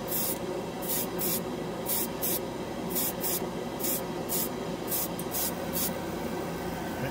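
An airbrush sprays ChromaAir paint onto bare plastic, giving about ten short, close hissing bursts in a loose rhythm over a steady low background hum.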